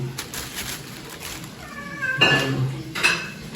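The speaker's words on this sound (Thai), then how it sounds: "กำลังล้างจานอยู่" Dishes being washed, with plates and cutlery clinking and knocking in short bursts against a quiet background, plus a brief squeaky, high-pitched sound in the middle.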